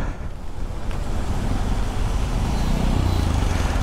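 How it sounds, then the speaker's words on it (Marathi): Heavy rain pours down during a motorbike ride through traffic on the road from Mumbai to Khopoli, a steady loud hiss and low rumble of rain and wind that fills the whole stretch without pause. "पाऊस जोरात चालू झाला आहे."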